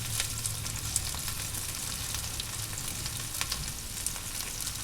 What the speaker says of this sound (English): the second lot of onions that I diced up. Getting added to the pan now